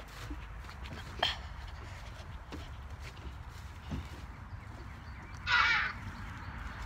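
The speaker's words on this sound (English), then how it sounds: "Oh, there's some birds." Crows caw outside a house in North Carolina, with one short call early and a louder, fuller burst near the end over a faint, steady outdoor background.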